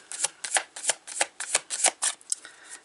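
Tarot-style clarifying cards shuffled by hand during a reading, close and crisp: about a dozen quick riffling bursts in a steady, even rhythm, heard alone without talking.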